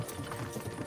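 Horses' hooves clip-clopping while pulling a cart, a quick, rhythmic run of close, moderately loud hoof strikes on a hard surface over about a second.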